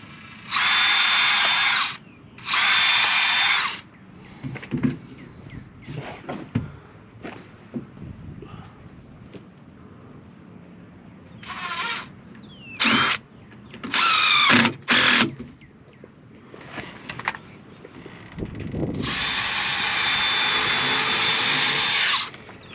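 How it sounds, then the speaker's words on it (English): A power drill whirs into a small piece of wood in several short, loud bursts, separated by knocks, shuffling and handling noises, ending with one longer sustained run, during a chicken coop build. "this is a smaller piece, so I'm gonna go ahead and drill."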